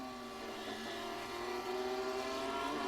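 Lamborghini GT3 race car engine from a racing video game during a GT3 feature race at Imola, a steady sustained whine that holds fairly loud in the background throughout, with no talk.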